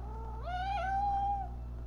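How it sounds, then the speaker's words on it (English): A cat in the horror game Man of Medan gives a single rising, drawn-out meow over a steady low hum of the game's ambience. "That's my cat saying hello."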